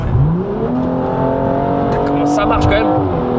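Prepared BMW 235i engine revving up with rising, harmonic-rich pitch sweeps, loud and close, while people talk over it.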